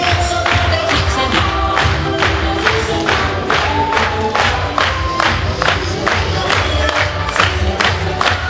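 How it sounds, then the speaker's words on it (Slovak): Crowd at a Slovak school graduation ceremony, loud sustained clapping with cheers and whoops, a dense even roar of many hands close by, no talking. "to si naozaj zaslúži obrovský potlesk"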